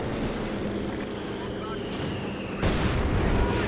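Artillery and mortar fire in the strategy video game Company of Heroes 2, a constant rumbling bed of battle noise with booms and a louder thud partway through.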